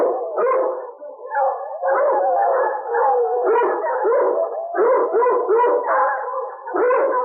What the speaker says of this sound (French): Les chiens d'abord.